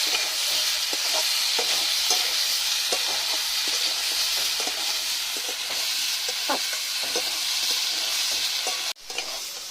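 Cauliflower and potatoes fry with spices in a pan, a steady close sizzle broken by frequent scraping stir strokes in an uneven rhythm, ending with a sharp clatter.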